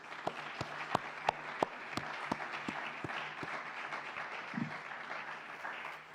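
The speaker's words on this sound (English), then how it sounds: "So let's just appreciate each other and thank each other with a round of applause for that." An audience at a county budget address gives a round of applause, a steady patter of many hands with several loud, close individual claps standing out early, continuing evenly until it tapers off at the end.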